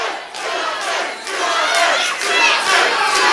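A fight crowd roars and cheers loudly in sustained waves during the last round of an MMA bout, a dense continuous wall of shouting voices with no clear single speaker.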